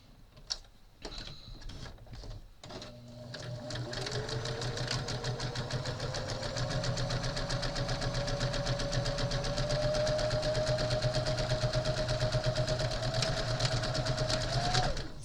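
A sewing machine stitches fabric mask pieces together, starting after a few clicks and then running steadily and close with a rapid even hum.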